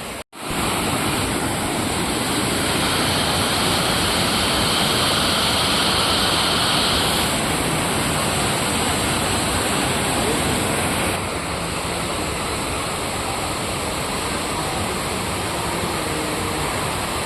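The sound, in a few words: waterfall at Tungareshwar temple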